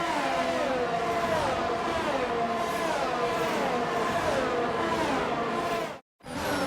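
Formula 1 cars on a formation lap in the F1 22 video game give a steady, continuous engine drone with gently shifting pitch, then cut to a brief silence near the end.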